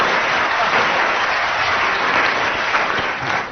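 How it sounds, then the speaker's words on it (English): Studio audience at a comedy panel show breaks into a loud, dense round of applause that holds steady and then begins to fade near the end, with no voices over it. "It should have been a loud round of applause and 3 marks"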